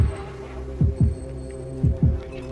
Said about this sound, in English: Controlling the heartbeat well.